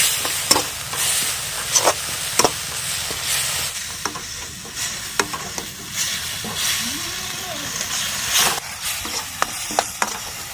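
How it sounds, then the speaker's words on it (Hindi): Tomatoes fry in a pan for a macaroni pasta, a constant sizzle broken by repeated clinks and scrapes of a spoon stirring. "तो अब टमाटर की अच्छे से फ्राई कर लेते हैं ताकि टमाटर जो हमारे अभी हमने डाले हुए हैं वो अच्छे से मिक्स हो जाए"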